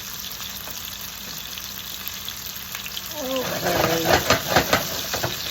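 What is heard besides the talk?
white wine added to swordfish frying and sizzling in pan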